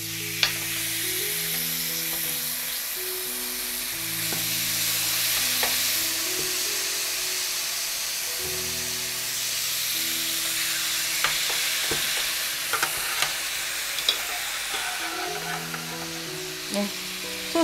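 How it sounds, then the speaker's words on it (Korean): Marinated LA galbi short ribs fry in a pan with a loud, continuous sizzle and crackle, the hiss steady throughout over a low, looping background tune. "이제 양념된 갈비를 구워 보겠습니다"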